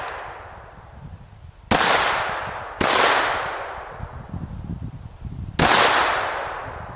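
Loud, close gunshots from a pistol fired at a target on a shooting range: three sharp cracks with ringing decay, at about 1.7, 2.8 and 5.6 seconds, over a steady background hiss.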